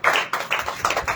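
An audience at a church gathering claps, a brief burst of several quick, fairly close hand claps with no talking.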